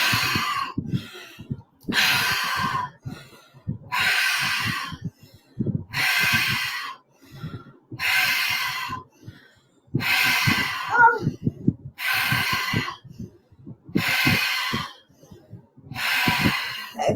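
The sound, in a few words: breathing exercise, breaths in and out through the mouth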